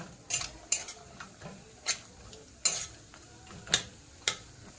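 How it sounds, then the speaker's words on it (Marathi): Cashews roast in ghee for dink (edible gum) laddu, stirred with a spoon: a soft, quiet sizzle runs underneath while crisp metallic scrapes and taps recur roughly every half second to second, with no one speaking. "चांगल्या तुपामध्ये असं लालसर होऊन द्यायचे चांगले असे भाजून घेतले"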